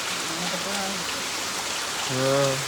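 Heavy rain falls as a steady, even wash of noise at moderate loudness, with a voice briefly speaking over it near the start and again near the end.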